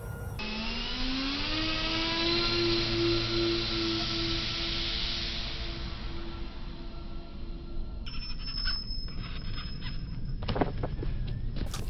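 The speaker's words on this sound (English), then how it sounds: "I'm going to do a vertical takeoff" A Flying Fish W650 RC plane makes a vertical takeoff, its electric motor whining steadily and loudly, rising in pitch and holding for several seconds before the sound shifts and fades as the plane climbs away.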